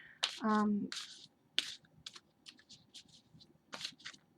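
A handheld camera is moved and shuffled close to the microphone, giving a string of irregular clicks, taps and rustles, with a short voiced hum near the start.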